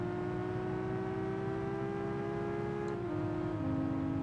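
Sports car fitted with a sport exhaust in Gran Turismo 5, holding a steady droning engine note with strong harmonics that drops in pitch near the end as revs fall or the gear changes, loud and continuous.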